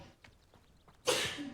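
A game character sneezes once in Hogwarts Legacy, a sudden breathy burst after a quiet stretch of faint rustling, close and moderately loud, with the hiss of the sneeze trailing off briefly.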